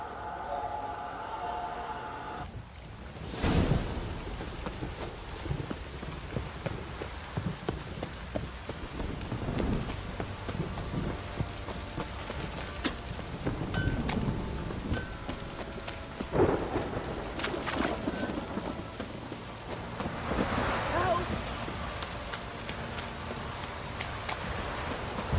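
Heavy downpour with rumbling thunder in The Witcher 3 game: a constant hiss of rain on surfaces with several deep thunder rolls swelling and fading, the loudest early on, and no speech.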